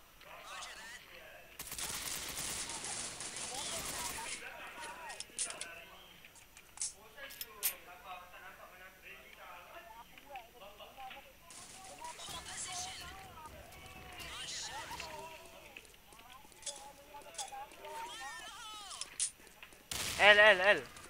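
Gunfire in a shooting video game, bursts of rapid shots and louder crackling volleys mixed with game effects, heard under players calling out to each other throughout.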